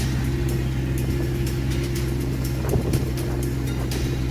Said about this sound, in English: There is some pulley noise here, and I think just standard Hemi noise